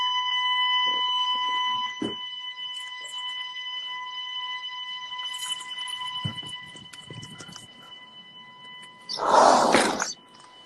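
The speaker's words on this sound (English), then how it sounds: "I just hit the panic alarm." A home panic alarm sounds during a live stream, holding a steady, piercing electronic tone throughout, broken by scattered knocks and a loud rough burst near the end.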